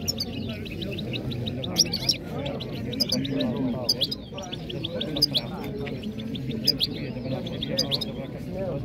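A three-year-old caged bird sings in quick repeated chirps and trills, close by at an outdoor market, while people talk underneath throughout.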